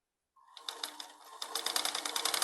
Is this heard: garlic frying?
no